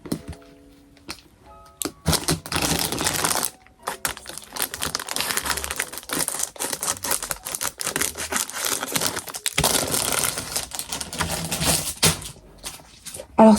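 Scissors snip and cut through paper or card in a quiet room, a run of crisp, close crunching and crinkling cuts with short pauses, no talking.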